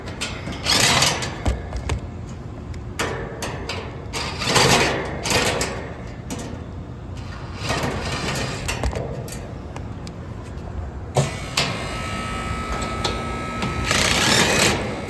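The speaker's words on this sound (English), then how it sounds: "compressor fired up" A Carrier HVAC compressor serving a cake freezer cycles on, its steady mechanical drone and rattling hum running continuously with intermittent clanks and bursts of broadband noise.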